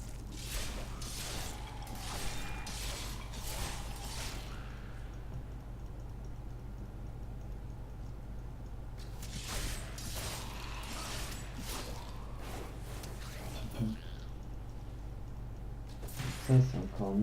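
Arcane Torrent spell cast in Diablo 3: bursts of crackling, ticking magical energy come and go in waves over a steady low game hum.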